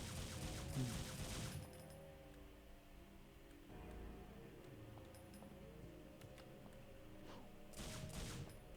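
Gunfire from the Devil May Cry video game, dense bursts of shots opening and closing the stretch over a continuous rumbling game soundtrack, fairly faint overall.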